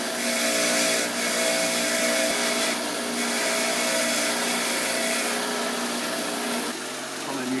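A power tool cleaning rusty bolts during rear shock absorber replacement on a Mercedes-Benz W123, a loud, steady whirring grind held throughout that softens slightly near the end.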